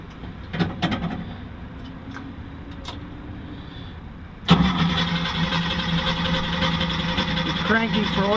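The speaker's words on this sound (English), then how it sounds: "Cranking for oil pressure, waiting for the gauge to come up." Race car engine cranked with the fuel off and ignition breaker pulled to build oil pressure after sitting: a few faint clicks and short bursts, then the starter kicks in loudly and grinds steadily without the engine catching.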